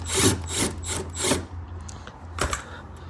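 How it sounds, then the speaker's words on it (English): A small hand tool works a 10 mm bolt on the belly pan of a Smart 451, making a few close, dry scraping and ratcheting rubs in quick succession, then a pause and one more short scrape. "it's a 10 millimeter headed bolt. So we're just gonna take our little tool here and undo it"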